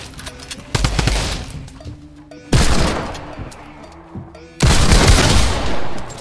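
Shotgun blasts in a console shooter video game, three loud separate booms each trailing into a decaying echo, with no talking.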